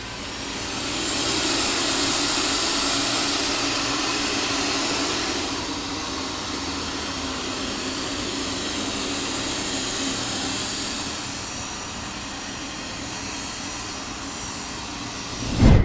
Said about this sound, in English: when it turns to turbo or max, the noise level will increase drastically.